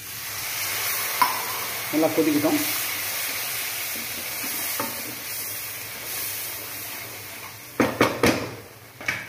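Water poured into a boiling curry leaf and garlic vathal kuzhambu, giving a steady sizzling simmer with brief stirring and clinks, then a few louder splashes and bubbling bursts near the end, under a short spoken remark.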